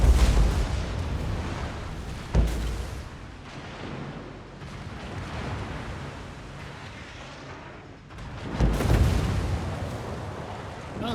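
Naval gunfire in the World of Warships video game, with heavy booming impacts, one sharp hit early and a louder rumbling barrage near the end over a continuous low battle roar, and no speech.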